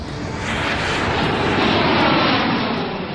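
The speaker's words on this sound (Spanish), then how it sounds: "el vuelo 447 de Air France despega de Río de Janeiro con rumbo a París." Air France flight 447, a jet airliner departing Rio de Janeiro for Paris, roars on takeoff with a loud, sustained broadband engine rumble that swells slightly and holds steady throughout, with no voices.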